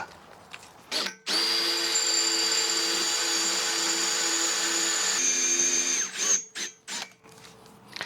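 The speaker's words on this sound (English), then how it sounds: "Our poor little Makita's getting kind of tired here. We'll grab a sharper bit too." A Makita power drill with a dull bit runs in one long, loud, steady high whine for about four seconds, its pitch dropping slightly as it strains, with brief clicks and short bursts before and after.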